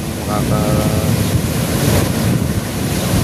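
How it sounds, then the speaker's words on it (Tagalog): Ocean waves at the sea wash in as a loud, continuous roar with heavy wind noise on the microphone, and a brief voice is heard near the start. "Pagmasdan nyo ang aming dagat."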